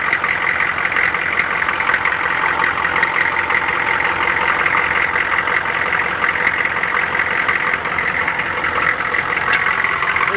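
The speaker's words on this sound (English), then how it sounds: "Yeah, I got a little exhaust leak." A Chevrolet K2500 truck engine idles steadily up close, with a constant rough hiss and rumble from an exhaust leak, without pause or change.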